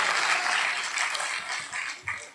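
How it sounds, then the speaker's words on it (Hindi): An audience at a Hindi comedy poetry gathering claps in a dense burst of applause that thins gradually toward the end, with a few scattered individual claps standing out. "4-5 अच्छे लोग ताली बजा दो"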